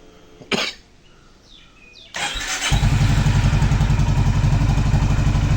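A Honda CB350 RS motorcycle just back from an oil service starts up: a short cough-like burst, a quiet pause, then the starter catches and the engine settles into a loud, close, steady thumping idle.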